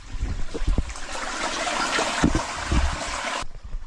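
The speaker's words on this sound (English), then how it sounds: "I finally got some running water to go through that culvert" Running water trickles and gurgles through a culvert, a steady close wash of flowing liquid with a few soft knocks and splashes, then cutting off abruptly near the end.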